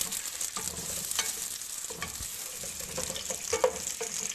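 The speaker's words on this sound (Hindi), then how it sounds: "इसमें सबसे पहले ये बारीक प्याज चॉप किया हुआ डालेंगे। इसे लाइट ब्राउन करेंगे।" Finely chopped onions frying in hot oil as the base of a beef kofta curry gravy, a steady close sizzle with scattered stirring scrapes and small spatters throughout, no voices.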